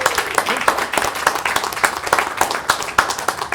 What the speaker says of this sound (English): How about a round of applause for the Dandenong Club?